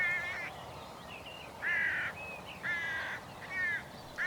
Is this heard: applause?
no